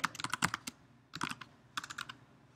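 Typing on a computer keyboard: quick clusters of crisp key clicks in three bursts separated by short pauses, close-up and alone.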